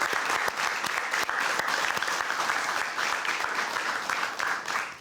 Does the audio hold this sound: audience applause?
yes